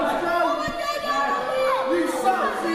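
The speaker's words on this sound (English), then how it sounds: "And Pure Evil himself just soaking up the boos from the crowd." A wrestling crowd at a PW Clash World Clash 2018 triple-threat match keeps up a steady, loud wall of voices that reads as sustained booing, with shouts and chatter mixed in and no letup.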